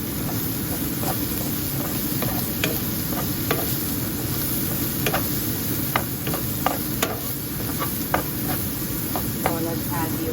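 Okra sautés in a hot pan for a yogurt-okra side dish, giving a steady, close sizzle with scattered crackles and pops over about ten seconds.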